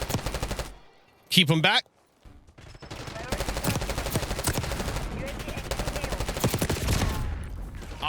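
Rapid bursts of C9 submachine gun fire in Black Ops 6, a sustained crackling stream of shots running several seconds after a brief loud burst, with a player talking over the gameplay.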